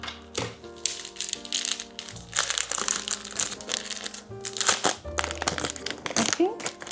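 Package unboxing with loud, close crinkling and crumpling of packaging material in repeated bursts, mixed with tearing and rattling handling noises.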